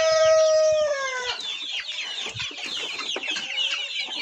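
Chickens and guinea fowl in a backyard poultry yard, a rooster-like call at the start followed by busy overlapping clucks and chatter, moderately close with no talking.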